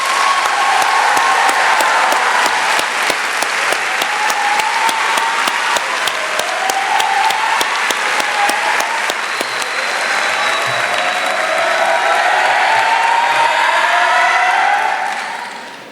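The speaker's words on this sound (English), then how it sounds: "May we all please join in one more round of applause for the class of 2019." A large crowd applauds the class of 2019 at Dunkirk High School's graduation in Dunkirk, New York: loud, dense, sustained clapping that holds steady for about fifteen seconds before tapering off at the very end.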